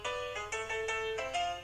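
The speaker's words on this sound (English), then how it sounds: "That's my new ringtone, man." A phone ringtone plays as a short, bright musical phrase of quick repeated tonal notes, fairly faint and alone with no talk.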